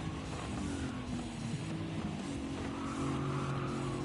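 A race car engine drones steadily in a racing video game during an online time trial, with tire squeal and skidding over a constant noisy roar.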